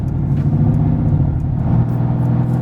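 A Mercedes-AMG GT S with a transmission malfunction engages gear and begins to creep forward, its engine giving a steady, close, low rumble with no voices over it.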